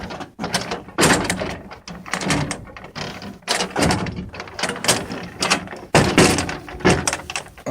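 Access doors on a Hitachi EX1200-6 excavator are swung open one after another, a series of loud metallic thunks, clanks and latch rattles with brief gaps between them, close by and without talk.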